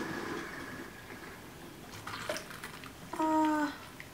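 Water running from a bathroom tap in an old colonial house under renovation, a continuous soft hiss with a brief clatter and short tonal squeal near the end; no one speaks.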